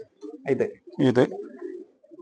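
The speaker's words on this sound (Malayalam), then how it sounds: "ഇതും പന്തയംപെട്ട പ്രാവാണ്." A racing pigeon in a loft in Palakkad gives two soft, low coos close by, with someone talking quietly around them.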